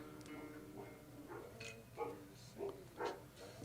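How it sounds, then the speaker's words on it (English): Several dogs bark in short, separate bursts, some close and some farther off, set against a low steady background hum. "I don't know what the dogs are barking at."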